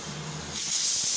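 Ghee hisses and sizzles in a hot pan under a dosa, a steady close spray of frying noise that grows louder partway through.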